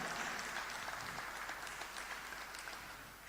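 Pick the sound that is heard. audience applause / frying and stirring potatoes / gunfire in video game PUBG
audience applause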